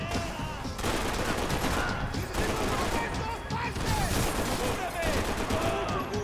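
Gunfire in the Max Payne 3 shooter runs as dense, continuous volleys of rapid shots and impacts, loud and unbroken across the whole stretch.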